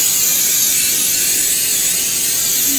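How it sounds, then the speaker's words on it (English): A can of coconut oil cooking spray hisses continuously for a few seconds, a loud, close, steady spray with no voices. "I'm just going to try to spray some more."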